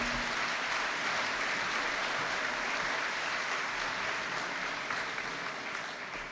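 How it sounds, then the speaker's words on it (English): Dense applause from a large crowd at a high school senior recognition night fills the whole stretch, steady and fairly loud, tapering slightly at the end. "a round of applause for all our academic excellence winners"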